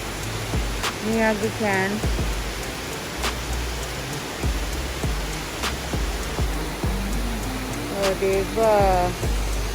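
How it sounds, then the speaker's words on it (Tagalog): Steady broadband rush of a river and waterfall in Rai-Rai gorge at Akiu, Miyagi, after days of rain, continuous and fairly close, with people talking over it and a few brief thumps. "The nature. The river sounds, the fall sounds."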